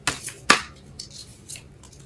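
Tarot cards pulled from a deck, a few crisp papery snaps and flicks, two sharper ones near the start followed by lighter shuffling, close and quiet with no talk.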